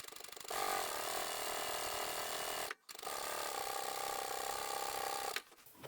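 A sewing machine stitches down the long edges of tote bag handles, a steady close whirring hum of needle and motor running in two long bursts with a brief stop between them.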